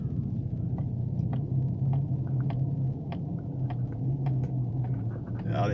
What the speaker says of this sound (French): les pneus sur la neige.